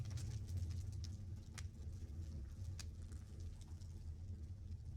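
A car engine revving outside on a street with passing traffic, a steady low rumble heard faintly and at a distance, with a few soft ticks and no voices.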